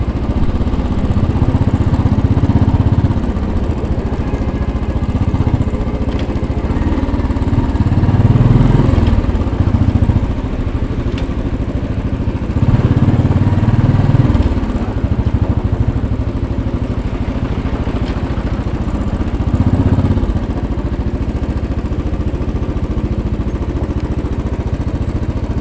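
Royal Enfield Bullet 500 motorcycle idling a little high in downtown New York City traffic, a loud, steady thumping engine drone with periodic swells in rumble throughout.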